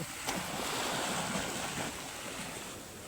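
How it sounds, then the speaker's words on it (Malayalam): Continuous surf washes in, a broad rushing roar of waves on the shore with wind, steady and moderately loud, no voices. "തിര ഇങ്ങനെ വരുന്നുണ്ട്"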